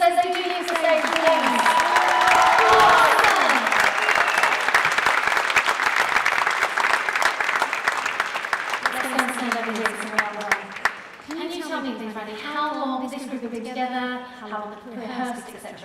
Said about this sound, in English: Give them a big round of applause as they do need to stay here.